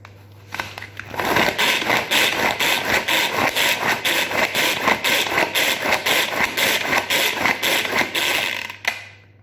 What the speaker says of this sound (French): Et on va tout mélanger en tirant sur la ficelle.